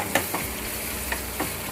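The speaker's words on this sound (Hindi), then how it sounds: "ये मैंने आधा चम्मच के करीब लाल मिर्च पाउडर ऐड किया है, वो इसमें ऐड करेंगे।" About half a spoon of red chili powder is stirred into a hot tadka in a frying pan with the flame off, giving a few faint, soft scrapes over a quiet, steady sizzle.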